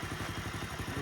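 A motorcycle engine during a beginner's riding lesson, a steady close rhythmic low thumping and clatter of the engine running without pause.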